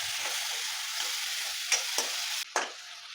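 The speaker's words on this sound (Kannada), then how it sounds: "ಚೆನ್ನಾಗಿ ಟೊಮೆಟೊ ಫ್ರೈ ಆಗಬೇಕು" Tomatoes frying with kasuri methi and salt hiss in a steady, even sizzle, broken by a few quick stirring scrapes of a spoon in the pan.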